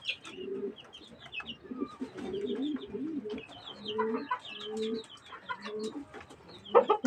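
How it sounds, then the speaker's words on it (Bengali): Pigeons coo repeatedly from a rooftop coop above a chicken pen, the low rolling calls steady and fairly close, with a few sharper bird notes and a burst of clucking near the end. "ওই যে উপরে কবুতর।"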